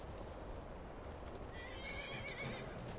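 Horse in the video game Hogwarts Legacy, a faint distant neigh rising over a steady background of game ambience and hoofbeats, with no talking.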